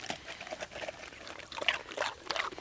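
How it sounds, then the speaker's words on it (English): Water is poured into a plastic bag for a dog, a soft splashing trickle with crinkling bursts that swell and fade close by. "I'll pour some water in here for Gage."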